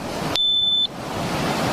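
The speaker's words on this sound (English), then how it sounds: "It's the Geiger counter on the beach." A Geiger counter alarm on a beach, a single sharp high-pitched electronic beep lasting about half a second, heard against steady surf-like background noise.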